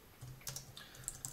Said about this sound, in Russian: вот сейчас я печатаю